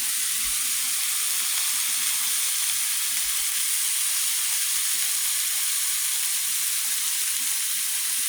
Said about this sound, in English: I know how y'all like to hear that sizzle